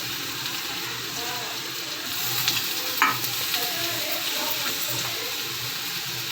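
Boiled, finely chopped potatoes are tipped into a pan and stirred, giving a soft continuous sizzle with scraping stir strokes and a brief louder clatter midway, close and moderately loud.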